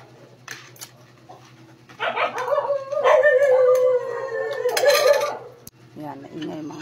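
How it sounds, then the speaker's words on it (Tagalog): Dogs howl and pant loudly near a home kitchen, a drawn-out howl rising and swelling over several seconds, with rapid panting and faint background sounds around it. "Yan, naingay mga aso."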